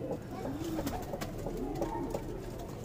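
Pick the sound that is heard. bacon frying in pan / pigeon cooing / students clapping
pigeon cooing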